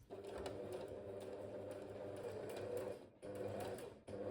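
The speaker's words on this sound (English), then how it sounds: "I'm actually now going to sew these down on the machine, and a medium sized stitch" A sewing machine runs close by at a medium stitch, sewing dress straps into place with a steady mechanical whirr that halts briefly near the end and then restarts.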